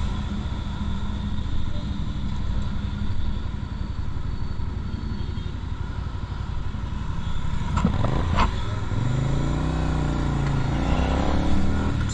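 A Keeway K Light 250V V-Twin cruiser motorcycle is ridden through the city, with a steady engine drone and wind noise throughout and a passing rise in pitch near the end.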